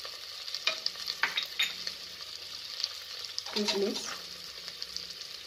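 Nuts frying in a pan for paneer butter pulao are stirred around, with scraping strokes and clicks over a continuous bright sizzle, plus a brief low clatter near the end.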